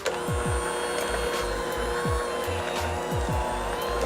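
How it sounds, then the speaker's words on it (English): An electric mixer whirs steadily while mixing French toast batter, a continuous motor drone with rhythmic thumping pulses as the beaters work, close and loud without talk. "Now our mixer."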